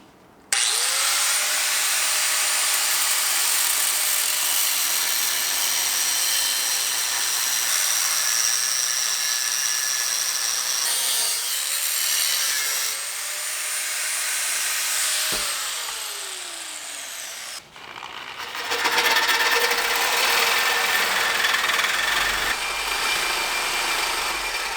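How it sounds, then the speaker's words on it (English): A power cutting tool saws through the muffler of a Porsche 924 exhaust, a loud continuous high whine that dips briefly mid-cut, then returns harsher and louder near the end, with no talking. "we're gonna cut the muffler off anyway."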